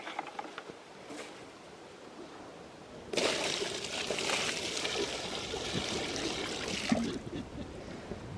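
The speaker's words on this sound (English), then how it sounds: "I'm gonna fill this water up real quick" Water from a hose gushes into a pigs' trough on pasture, a steady, fairly loud rushing stream that starts abruptly, runs for about four seconds, then cuts off, leaving quieter outdoor background.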